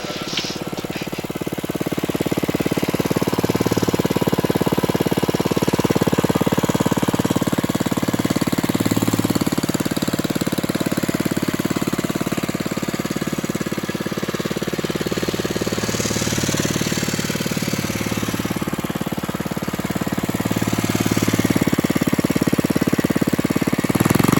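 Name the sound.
Villiers Mk12 engine kick-started and running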